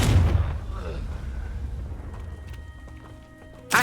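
A Confringo fire spell explodes in Hogwarts Legacy, a loud booming blast at the start that decays into a rumbling tail, with a sharp burst at the very end.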